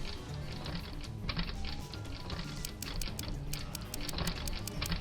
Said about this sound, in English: I put my phone down and resume typing into Moeka's phone